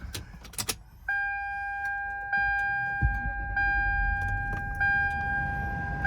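A 1999 Toyota Land Cruiser 100 Series engine is started. Keys jangle first, then a steady dashboard chime repeats, and a low rumble rises midway as the engine catches, all close by with no talk.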